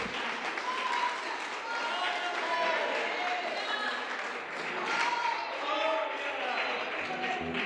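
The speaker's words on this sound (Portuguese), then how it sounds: "Dá uma salva de palmas para Jesus." Church congregation applauding in a sustained round of clapping, moderately distant and reverberant, with voices calling out and a speaker talking over the clapping throughout.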